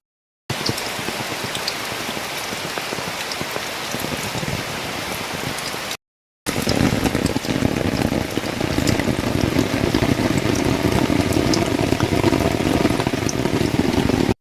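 Steady rain pours down continuously, a dense hiss of drops hitting surfaces nearby, briefly cutting out before resuming heavier.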